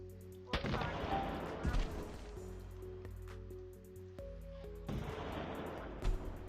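Gunfire from weapons shooting at enemies in the Roblox game Boat Defense Simulator comes in dense bursts of rapid shots, faint overall, with clusters of louder blasts.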